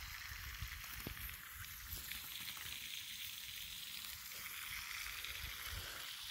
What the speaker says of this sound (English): and now she likes playing with the hose.